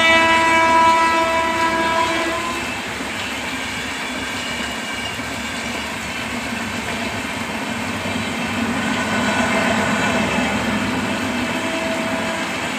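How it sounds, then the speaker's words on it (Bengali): A train passes in the rain with a steady rumble of wagons and faint clickety-clack, its horn sounding near the start before the rolling noise carries on at moderate distance. "আর তো ট্রেন তোমাদের একটু দেখিয়েই দিলাম"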